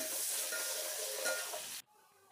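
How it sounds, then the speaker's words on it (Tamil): Sliced big onions frying in hot oil for a mutton biryani give a steady, bright sizzling hiss that runs close and even, then cuts off abruptly near the end, leaving only faint room noise. "1/4 கிலோ பெரிய வெங்காயம் கட் பண்ணி சீவி எடுத்துகிட்டு அதே நம்ம அதுக்குள்ளே சேர்த்து நல்லா வதக்கி எடுத்துக்கலாம்"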